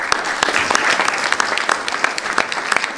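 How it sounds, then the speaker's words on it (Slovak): An indoor audience at a discussion forum applauds to welcome an elderly writer and speaker. The clapping is dense, continuous and fairly loud, with sharp individual claps standing out from the crowd. "Privítajme spoločne potleskom spisovateľa a odborníka na palestínsko-izraelskú"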